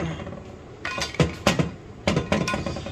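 Bolts come off a BMW F25 differential cover with a series of sharp metallic clinks and clanks, several close taps in quick succession after a quiet start, with no speech.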